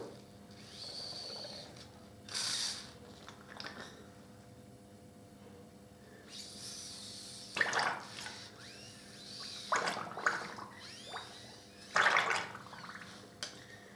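Water flowing and draining down through a vehicle part being rinsed clean, soft trickling and dripping with a few louder splashy bursts, fairly quiet and close.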